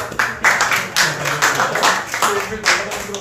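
A small group at a church youth worship service claps together after a photo, several uneven bursts of hand claps close by, with voices talking over them.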